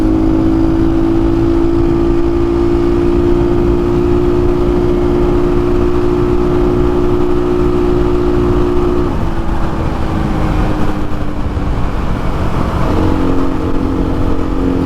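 A Templar X motorcycle held at full throttle in sixth gear gives a loud, sustained engine drone with a steady tone, shifting slightly partway through, and heavy wind rush throughout, with no talk.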